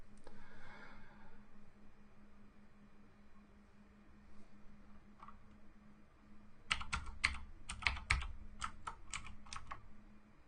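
Typing on a computer keyboard during PowerShell scripting: a faint hum at first, then a quick flurry of sharp, clicky keystrokes arriving in short bursts toward the end.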